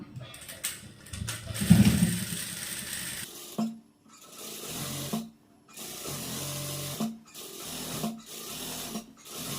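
A tailor's sewing machine runs in several short bursts, stitching a second seam line over a garment, with clattering mechanical whirs separated by pauses.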